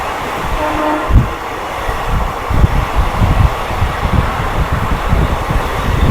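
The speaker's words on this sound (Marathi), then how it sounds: "बरोबर साडेतीनला आपली ट्रेन पोहोचते ठाण्याच्या फ्लॅट क्रमांक पाच नंबरला" A Dadar–Ratnagiri Holi special train rumbles loudly with clattering wheels and rhythmic clicks as it rolls into Thane station platform five, a brief horn-like tone near the start.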